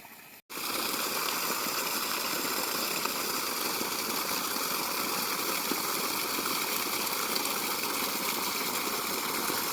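Water gushes from the pipe of a 5 HP Jain solar pump on a farm in a loud, constant rushing stream that starts abruptly and holds steady without a break.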